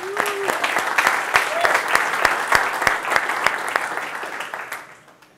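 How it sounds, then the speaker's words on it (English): A conference audience gives a round of applause for a speaker from Dräger, with many hands clapping and several sharp, distinct claps standing out in a loose rhythm, swelling and then fading away toward the end. "So how about a round of applause for Dräger?"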